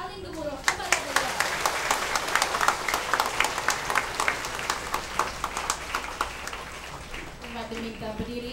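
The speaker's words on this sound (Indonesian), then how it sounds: "Berikan satu tepukan paling gemuruh kepada beliau" A Catholic congregation at Mass applauds the visiting Archbishop, steady room-filling clapping with distinct individual claps, lasting several seconds before a voice speaks near the end.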